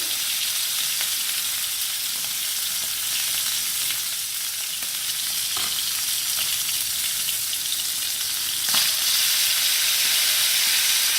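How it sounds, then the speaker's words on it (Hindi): Chicken pieces for an Afghani chicken karahi fry in hot oil in a pan, giving a steady, bright sizzle with crackling pops throughout and no talking. "अब मैं इन सबको पैन के अंदर शिफ्ट करती हूँ। ऑयल हमारा बड़ा अच्छा सा गर्म हो गया है।"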